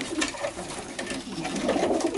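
Low, rolling coos from an Ardennes pigeon of the Dolle line repeat close by over a rustly background, steady and moderately loud.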